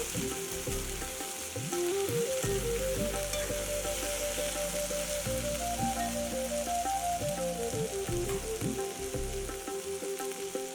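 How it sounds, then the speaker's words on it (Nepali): Chopped tomato and green garlic sizzle and fry steadily in a pan while being stirred, a close, continuous crackle with scraping stirs throughout and no talk. "अब यसलाई मिक्स हुने गरी एकछिन चलाउँदै छु।"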